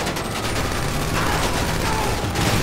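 Gunfire from a Uzi in GTA 5 during a team bank heist shootout, a dense continuous rattle of rapid automatic shots that fills the whole stretch at steady loudness.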